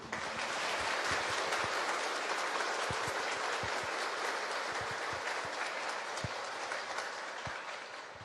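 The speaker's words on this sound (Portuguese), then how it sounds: "Vamos acolhê-lo com as nossas calorosas palmas" A church congregation at a Saint Sebastian novena gives warm applause to welcome a priest, sustained clapping with some sharper individual claps, heard from a distance and fairly faint.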